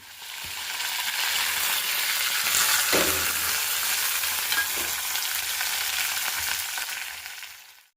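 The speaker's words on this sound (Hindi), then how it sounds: "उन्हीं के लिए मैं पोहा और चाय बना रही हूँ" Poha and tea being cooked in a home kitchen: a steady, close sizzle of frying runs throughout, with a few soft scrapes of stirring in the pan and no talking.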